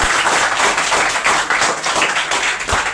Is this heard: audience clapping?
yes